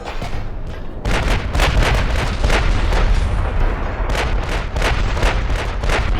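Heavy 17-inch naval guns fire in a battleship game, a loud, continuous barrage of booming salvos rumbling together with little pause between shots.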